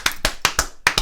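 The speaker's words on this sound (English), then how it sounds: "Can we do a round of applause for boxing" A short run of about six sharp, close hand claps, a small round of applause on a boxing podcast, spaced unevenly with brief gaps.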